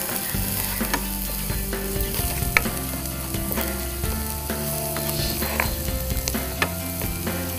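Onions being sautéed in a pan, with a steady close sizzle broken by repeated sharp scrapes and clicks of a spoon against the metal, and no voices.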